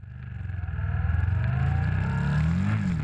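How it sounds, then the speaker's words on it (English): A motorcycle engine revs up as the rider rolls on the throttle through a turn on a rough road, rising in pitch and staying loud and close for about three seconds with no talk. "He accelerates through the turn."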